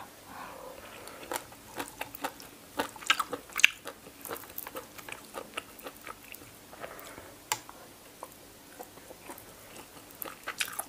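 Close, repeated wet biting and chewing from someone eating fiery som tam mixed with chewy khanom jeen rice noodles by hand, with sharp crunchy bites in an irregular rhythm and no talking.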